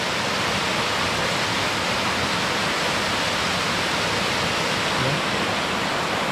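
A waterfall at Na Angge's farm in Santa Maria, Laguna, roars as a steady, loud, unbroken rush of falling water, close by, with one brief word spoken over it.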